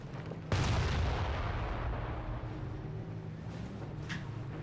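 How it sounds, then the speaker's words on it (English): Company of Heroes World War II battle: a heavy bombing run hits near a Flak 88 gun with a sudden deep boom that rolls into a long rumbling decay, a fainter blast following later. "He's bringing a bombing run onto the Flak 88."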